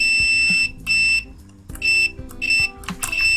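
A continuity tester gives several loud, high electronic beeps in short bursts of varying length, separated by brief quiet gaps, with no talk.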